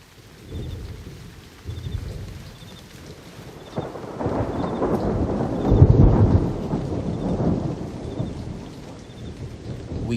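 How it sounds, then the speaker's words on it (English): Recorded rain and thunder played aboard a spacecraft: a soft bed of rainfall with low rolling thunder that swells to a heavy rumble midway, then settles back to a steady rain hiss. "Cooper plays the sounds of rain and crickets."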